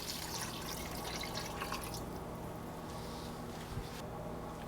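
Water poured into a pot of beef with star anise and beef cube for beef pares, a steady close trickle and splash that thins out partway through.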